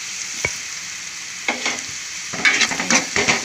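Cashews frying in a pan with salt and chili powder for mutton keema fry, a steady background sizzle broken by a sharp tap near the start and clusters of scraping stirs in the second half.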